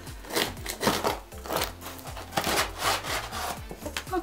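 Scissors cut open a delivered parcel, producing a quick series of close, rhythmic crunching and rasping snips against cardboard and packaging, with no talking.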